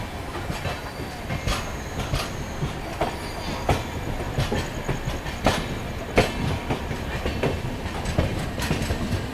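Passenger train rolling slowly into a siding, rhythmic clickety-clack of wheels over rail joints repeating steadily under a constant rumble, heard close from on board.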